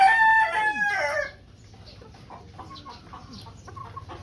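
White Kelso gamecock, straight comb, crowing once loudly and close for about a second, followed by softer clucking and faint farmyard background.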